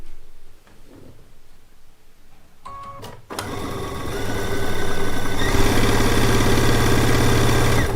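Quilt pieces are sewn together for the bottom row of a One Block Wonder quilt top. After some quiet handling and a few clicks, a sewing machine starts up and hums steadily and loudly, rising to full speed.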